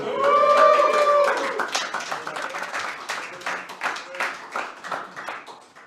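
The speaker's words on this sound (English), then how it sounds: "Bit of a cheer for them guys down there." A crowd at a startup pitch demo day in Dublin claps and cheers, with whoops at the start giving way to scattered applause and some voices mixed in.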